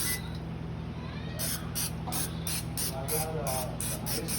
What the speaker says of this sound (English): So step 1, spray. We don't want the egg and everything to stick to them.